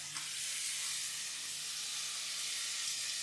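Tamarind water hits a hot pan of turmeric for a Kerala fish curry, giving a loud, steady, close hiss and sizzle with no break.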